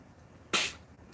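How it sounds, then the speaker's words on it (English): A single short, breathy sneeze bursts out abruptly, loud and close, then fades quickly into quiet room tone. "I feel a sneeze coming on."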